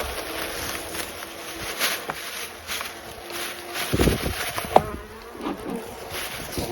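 Steady buzzing of many honeybees close by, a continuous drone with a few soft knocks and shuffles partway through.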